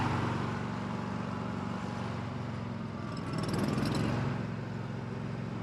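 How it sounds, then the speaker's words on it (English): Argo amphibious off-road vehicle engine running steadily in snowy cold conditions, a continuous droning rumble with a slight swell midway, heard close and alone without talk. "we're going on a little trip in the Argo"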